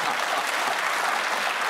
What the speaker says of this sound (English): Thank you for that ironic burst of applause.